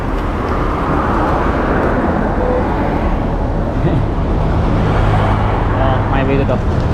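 A bus on a road just after rain, passing close with a steady rumbling engine and broad tire hiss over wet pavement, loud and continuous, with faint voices underneath.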